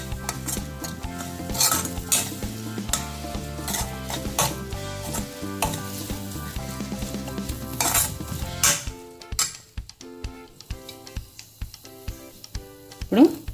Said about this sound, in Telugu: ఇప్పుడు మొత్తం అన్నీ కలుపుకోవాలి.